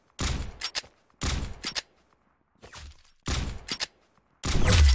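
Gunfire in the Roblox game Arsenal comes as short, loud bursts of rapid shots, each lasting about half a second and separated by brief silences, with a heavier blast at the end.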